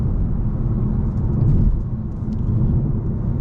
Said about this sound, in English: Currently doing 60 miles an hour on a decent road.